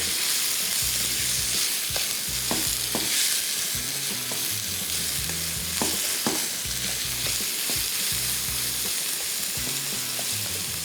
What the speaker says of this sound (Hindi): बीफ को सबसे पहले कर रहे हैं फ्राई।